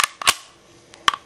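Toggle bolt of a Luger P08 pistol being worked, giving a few sharp metallic clacks close up: a pair of quick clicks near the start, a faint tick midway and a final crisp snap near the end.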